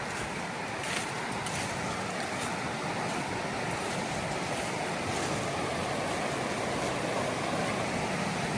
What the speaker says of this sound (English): right alongside the river now.